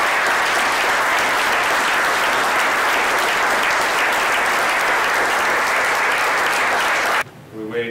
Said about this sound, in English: So how about another round of applause for Joe?